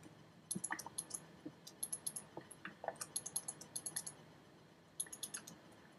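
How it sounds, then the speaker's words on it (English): Rapid bursts of computer mouse clicking during a Minecraft multiplayer building session, crisp close clicks in fast clusters with short pauses between them. "I bet you guys can hear me intensely clicking."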